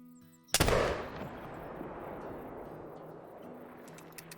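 A single loud rifle shot fired at a bear in the hunting game theHunter: Call of the Wild, a sharp close blast at the start followed by a long rolling echo that slowly fades across the outdoor landscape.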